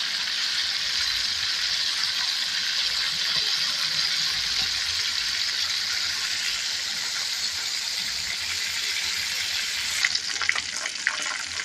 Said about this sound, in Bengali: এগুলো একদম এখন কড়া করে ভাজবো।